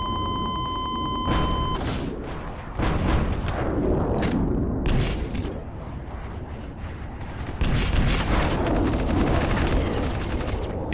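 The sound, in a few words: gunfire in the video game War Brokers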